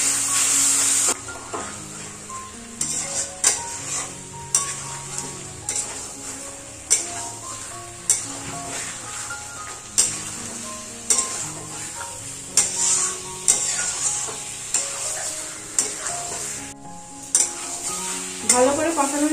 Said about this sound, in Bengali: এবারে ভালো করে মশলার সাথে ডিম আর আলুগুলোকে একটু কষিয়ে দেবো।